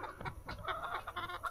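Hens clucking at a ranch, a soft, busy run of overlapping clucks from a small flock, close but quiet, with no talk over them.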